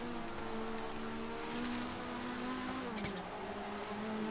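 Car drifting in a racing video game, a steady loud engine drone with sliding tire noise running throughout, no voices.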